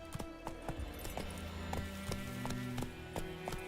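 Hooves of the horse Roach galloping in The Witcher 3 make a steady, fast clip-clop rhythm under game music, close and clear, with no talking.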